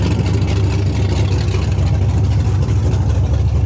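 A Chevy S10 engine idles while warming up, a steady low rumble with a regular pulsing beat, close and constant with no revs and no voices.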